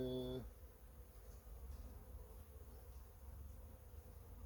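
Honeybees in a beehive hum in a soft, continuous drone, faint and steady, after a short burst of another sound at the start.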